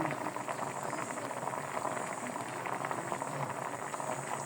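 Ginataang tilapia with vegetables simmering in coconut milk, a continuous close bubbling boil with soft popping that holds steady and unbroken the whole time.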